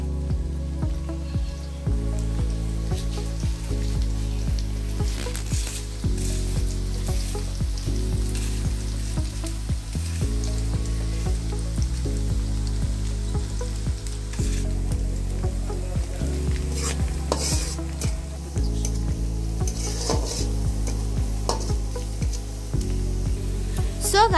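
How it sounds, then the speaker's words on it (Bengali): Sliced onions fry in hot oil in a large kadai until browned and crisp, giving a steady loud sizzle with occasional scraping stir strokes throughout. "আর এখন আমরা পেঁয়াজগুলো বেরেস্তা করে নিব।"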